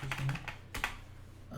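Quick bursts of keystrokes on a computer keyboard as someone types a short search phrase, a few clustered taps followed by a pause and one more pair, close and fairly quiet.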